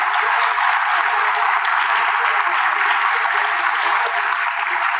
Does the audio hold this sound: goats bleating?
no